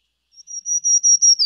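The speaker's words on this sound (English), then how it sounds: "let's take a listen to black-throated green" A black-throated green warbler sings a thin, high, buzzy phrase of about five connected notes that swell steadily in loudness, clear and alone with no other sounds.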